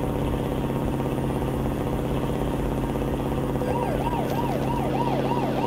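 Police siren in Euro Truck Simulator 2, wailing up and down in the latter half of the clip over a steady drone of truck engine and road noise, growing more prominent toward the end.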